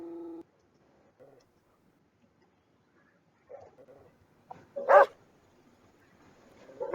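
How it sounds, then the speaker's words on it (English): A dog barks a few times in short, separate bursts with quiet gaps, the loudest bark standing out near the end; no one talks. "And this is the sound a dog makes."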